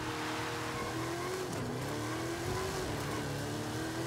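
Engine of a Plymouth Barracuda tuned to 1500 horsepower in Forza Horizon 5, droning loud and continuous as the pitch rises and falls through the revs, with tires squealing, close up and without talk.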